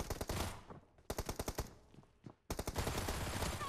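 Automatic gunfire in the mobile game PUBG Mobile: rapid, loud bursts of shots close up, broken by a short pause midway, then a long sustained string of fire.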